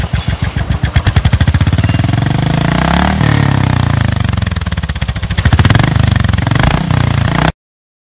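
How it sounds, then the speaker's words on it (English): A Royal Enfield motorcycle with a double barrel exhaust silencer fires as a loud, close thumping that quickens into a steady throaty rumble as the engine revs, then cuts off abruptly near the end. "Number 6. Double Barrel Silencer."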